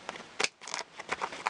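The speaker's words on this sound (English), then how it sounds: "Let's take some bigger scissors and let's cut this" Large scissors snipping through paper for a vintage stamped craft piece, a string of sharp close-up cuts with short pauses between them.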